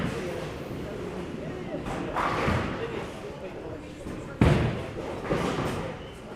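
Tenpin bowling at a tournament in Shipley: a ball crashes into the pins with a sudden loud clatter, leaving the 10 pin standing, heard nearby over steady alley noise and background voices.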